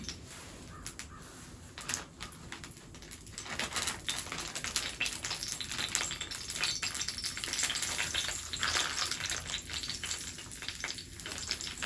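Food sizzles and crackles in a pan over a campfire at an Adirondack shelter, a steady close frying hiss with scattered pops and light clicks, with a crow cawing faintly in the background.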